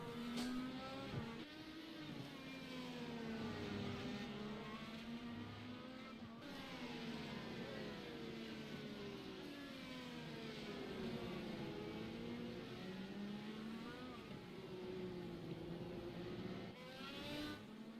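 Indy race cars in an iRacing sim race at Okayama, with engines whining and shifting pitch as they accelerate and lift, several cars overlapping in a steady, fairly quiet drone for the whole stretch.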